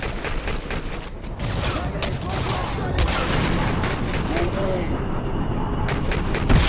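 Gunfire in the video game Singularity rattles in dense, rapid bursts of close, loud shots and booms that continue almost without pause.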